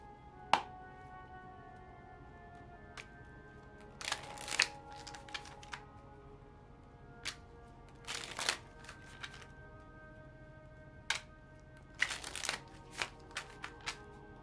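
Tarot cards shuffled by hand for a six-card spread, with bursts of riffling and flicking cards separated by brief pauses over a steady low hum.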